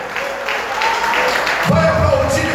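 A church congregation applauding loudly for the Lord, a continuous burst of clapping with a voice and low tones sounding through it.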